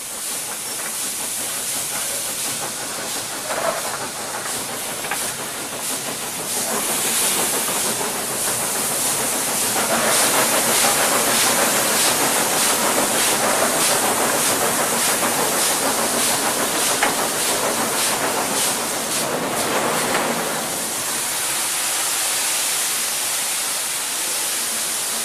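Steam locomotive King Edward I works uphill, a steady loud hiss of steam with rhythmic exhaust chuffs throughout, heard from close by with no voices.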